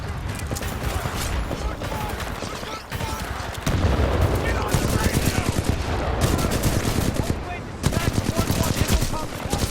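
Video game gunfire with tracer rounds rattles in dense, repeated bursts of automatic shots and booms, loud and sustained, with people talking over the combat.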